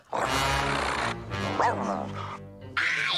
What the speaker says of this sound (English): Perro, a dog.